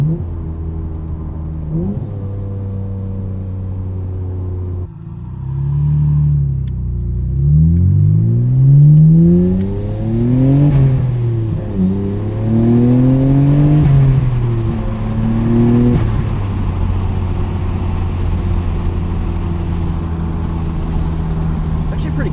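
A 1999 Nissan Skyline R34 GT-R twin-turbo engine drones from inside the cabin while driving, rising and falling through several rev climbs and gear changes, steady and moderately loud, with a voice talking over it at times.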